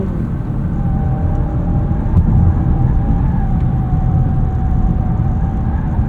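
Michelin Primacy tires on a 2025 Honda Accord Hybrid Touring rolling through a corner, giving a steady, loud low rumble and road roar with a faint tonal whine throughout, no voices.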